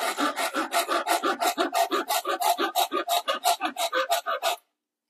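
A cheap AliExpress hand saw cuts through wood in about two dozen steady, rhythmic rasping strokes, loud and close, with no voices, ending abruptly in silence.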